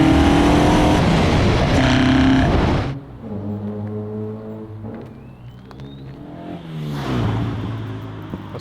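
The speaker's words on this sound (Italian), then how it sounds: "Ho sentito la macchina" Project 75 car, a build taken from henhouse to track, on its first road test: a loud, roaring engine that dominates the opening seconds, then falls back to a lower, steady running drone before swelling briefly again near the end.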